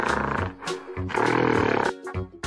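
A gorilla in a kids' animal painting game gives a loud rough roaring call, two bursts with a brief pause between them, set against bright game music.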